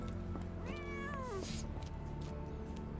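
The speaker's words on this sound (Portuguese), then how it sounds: "Foi gato." A cat meows within Sherlock Holmes: The Awakened, a single drawn-out, rising then falling cry lasting about a second over a steady bed of game ambience, with no talking.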